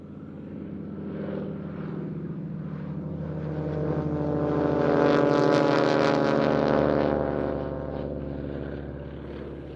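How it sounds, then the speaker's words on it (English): Three Grumman Ag-Cat biplanes fly past at the Roskilde airshow in Denmark, their radial propeller engines droning steadily, swelling louder as they approach overhead and fading as they pass. "Here are 3 biplanes of Scandinavian airshows,"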